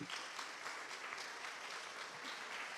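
Steady applause from an audience in a conference hall, dense and continuous for a few seconds with no voices.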